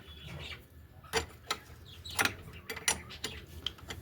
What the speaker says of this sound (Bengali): আমি একটু এটাকে টাইট করে নেব।